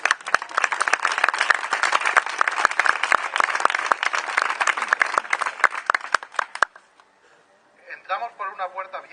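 Loud, dense audience applause with sharp individual claps runs for about six and a half seconds at a storytelling performance, then stops abruptly and a voice begins speaking.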